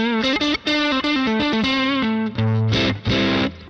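Electric guitar played through an overdrive pedal starved to about 3.9 volts, giving a gated, sputtering distorted texture. A short run of picked notes and held chords rings out loud and alone, with brief cutouts between phrases.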